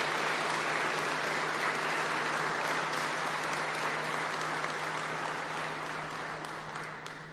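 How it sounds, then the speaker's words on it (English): Steady, sustained applause from a large crowd at a Class 114 police badge ceremony in Wellesley Township, holding at full strength for several seconds before easing off slightly toward the end. "one more round of applause to all of you and our buddy choir for your amazing rendition of the National Anthem"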